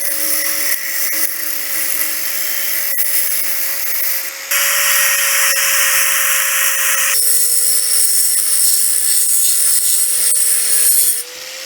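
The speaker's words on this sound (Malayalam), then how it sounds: "അപ്പം നൈസ് പ്രോ കട്ടിങ് തുടങ്ങിയേക്കാം" A power tool cuts metal pipe for a homemade drift trike build, a steady high grinding whine that holds for about eleven seconds and shifts pitch a few times as the cut progresses, with no talk.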